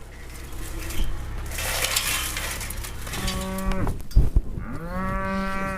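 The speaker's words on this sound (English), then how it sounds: "her herd of ancient cattle in Monmouthshire" A cow from a pedigree herd of an ancient rare Welsh cattle breed on a Monmouthshire farm gives two loud, drawn-out moos close by, the second following a brief clatter, over faint outdoor background noise.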